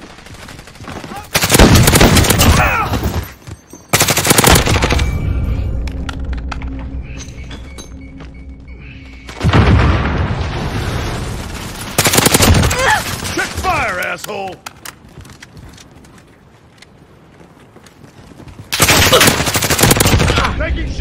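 GRAU 5.56 rifle fire in Modern Warfare, loud close bursts of automatic gunfire in several separated volleys, with quieter game sounds between them.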